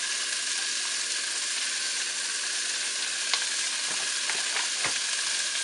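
Onions and flour stirred together in a hot pot make a steady, loud sizzle and frying hiss throughout, with a few faint scraping stir sounds and no talk.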